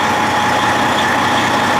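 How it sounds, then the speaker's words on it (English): A vehicle engine runs at a steady idle during a battery analyzer charging test, a continuous loud, even drone with no talk over it. "start her up again"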